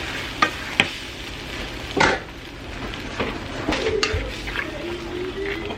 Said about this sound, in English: I'm going to go on and add our eggs now. And just kind of scramble those in here.